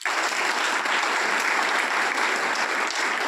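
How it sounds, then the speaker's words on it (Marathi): An audience at a business rank celebration event applauds: dense, sustained clapping from a large crowd, loud and even throughout, with no speech over it. "सनेजकडे जोरदार टाळ्या द्या."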